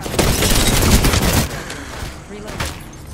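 Rapid bursts of gunfire from the Phoenix weapon in a shooter video game crackle loudly, then thin out into scattered, fainter shots with a couple of sharp cracks near the end.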